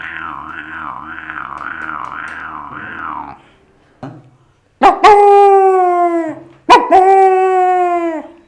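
A voice imitates big dogs, starting with a wavering howl, then a couple of deep, loud barks that stretch into drawn-out yowls, close up.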